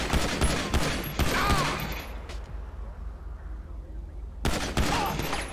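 Bursts of rapid gunfire in a GTA roleplay game come in two clusters, one near the start and another toward the end, with a quieter gap between them.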